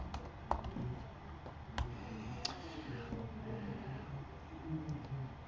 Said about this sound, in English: I'm just going to go in and I'm just going to type in, Grandpa Grange.